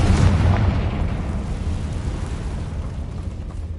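A Confringo blasting spell detonates in Hogwarts Legacy with a loud, close boom that rolls into a long rumbling decay, heard alone without speech.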